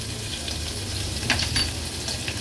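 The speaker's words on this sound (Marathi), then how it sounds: "आलं लसूण क्रश तेलावर छान परतून घ्यायचंय" Crushed ginger and garlic sautéing in hot oil in a pan along with asafoetida and bay leaves, a continuous close hissing sizzle with a few faint clinks of a utensil.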